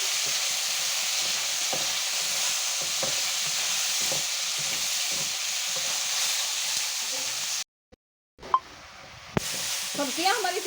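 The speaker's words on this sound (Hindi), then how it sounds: "अब डालेंगे अपना चिकन। अच्छी तरह से अपनी सब्जियों को कर लेंगे फ्राई।" Chicken and vegetables stir-frying in a pan for restaurant-style chicken shashlik, a steady close sizzle with scraping stirs that cuts out briefly near the end, then resumes with sharper clinks and crackling.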